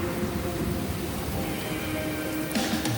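Steady rain pours down in a broad, even hiss during a thunderstorm watch, constant and fairly close throughout, with no talking.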